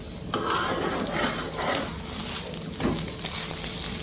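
Rice and dal dosa cooking on a hot pan after being flipped produces a continuous, fairly loud crackling sizzle with slight swells in intensity and no talking.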